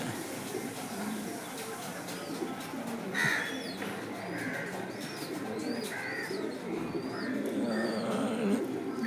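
Racing pigeons coming back from a 35 km training flight fill an outdoor scene with soft cooing and scattered chirping calls. A steady background ambience runs throughout, with brief louder calls standing out now and then.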